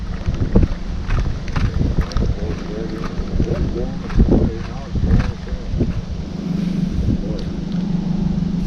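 Gusty wind buffets the microphone on a Canadian river during pike fishing, a low rumbling roar throughout with someone talking intermittently.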